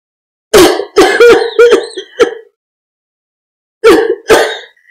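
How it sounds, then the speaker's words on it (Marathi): A woman breaks into a loud, close coughing fit: a rapid cluster of harsh coughs, a short pause, then two more hacking coughs. "तिला खोकल्याची उबळ आहे."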